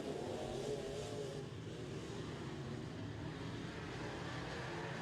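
A race car in a modified-class heat race, its steady, dense engine roar carrying continuously at close range without a break, with no talk over it.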